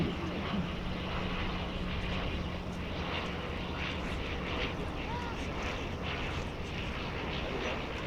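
A military jump aircraft carrying the Golden Knights parachute team drones overhead at the 2024 Dover Air Force Base air show, a continuous, even engine roar heard from a distance across the open airfield.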